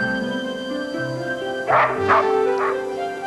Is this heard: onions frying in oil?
no